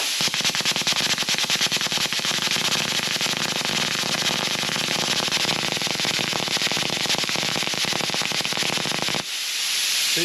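A cutter with a blocked nozzle attempting a cut gives a loud, continuous crackling and sputtering hiss for about nine seconds, then abruptly falls quiet.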